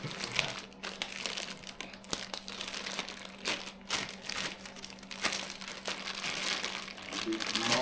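Packaging crinkles and rustles as a new engine part for a turbo LQ4 swap into a Dodge Ram is pulled from its box, a steady close crackle with a low hum underneath.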